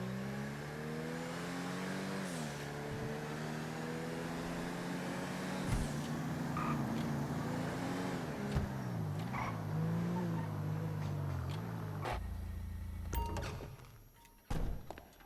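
A Seminole Frontier in GTA Online revs its engine loudly and continuously, pitch rising and falling through gear changes, with a few thunks before the engine cuts off near the end.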